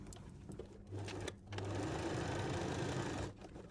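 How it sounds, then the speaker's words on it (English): A sewing machine stitches the second side seam of a cutlery pouch made from a napkin, its motor whirring in two close, steady runs separated by a brief pause, loud and alone. "And then we'll sew the other side."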